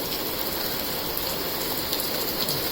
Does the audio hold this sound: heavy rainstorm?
yes